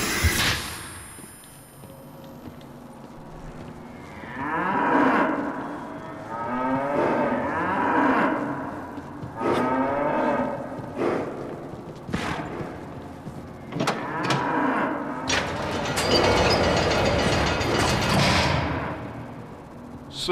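Cows in the video game Cryostasis give repeated drawn-out moos, several loud and close, separated by short pauses, with mechanical creaks and a hiss building toward the end.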